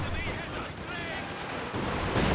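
Soviet Katyusha rocket artillery fires in Company of Heroes 2 as a dense, continuous roar of launches and blasts. The barrage fills the whole clip, and a voice blends into the din.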